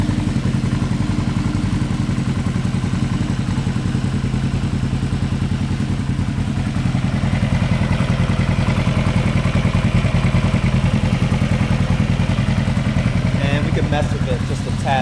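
A Yamaha XS500 motorcycle engine idles steadily during carburetor synchronization, a continuous close mechanical chug and clatter throughout, with a person talking over it.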